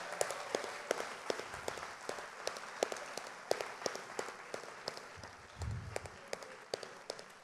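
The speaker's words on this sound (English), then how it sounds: "please join me with a big round of applause for our amazing jury" An audience at an architecture awards ceremony claps for the jury, a scattered applause of distinct, sharp hand claps at moderate distance, with a brief low rumble partway through.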